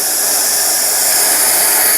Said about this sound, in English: I'm using steam plus suction, and I'm slowly pulling this down.